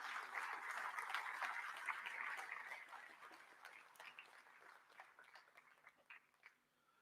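A convocation audience applauds graduating students, a full burst of clapping that thins out into scattered individual claps and fades quietly, heard fairly distant in a large hall.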